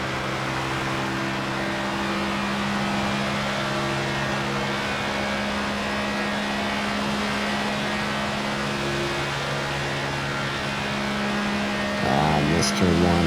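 A NASCAR 25 race car at Kansas drones at a steady engine pitch for the whole stretch, holding near-constant loudness before a brief rise and rapid pitch shifts near the end, with a voice talking under it.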